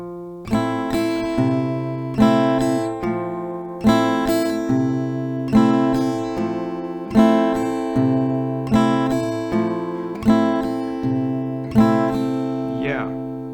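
Steady strummed acoustic guitar chords ring out in a regular rhythm, with low bass notes alternating beneath each strum, close and clear with no talking.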